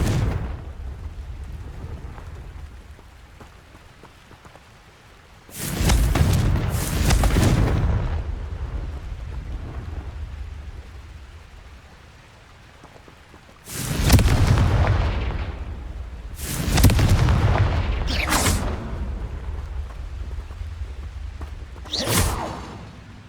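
Confringo fire spells explode in the Hogwarts Legacy game, with several loud booming blasts in clusters, each trailing off in a rumbling decay between quieter stretches of ambience.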